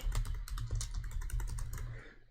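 Fast, steady typing on a computer keyboard while entering text, with dense, close key clicks running almost without pause for about two seconds before tapering off.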